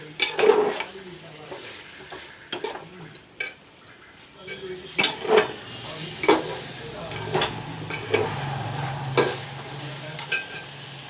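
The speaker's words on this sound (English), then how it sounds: "Now the mutton is fried up nicely." Mutton pieces sizzle and fry in a pan for mutton jhol while a spoon scrapes and clanks against the metal in irregular strokes, close and fairly loud, with a voice talking at times.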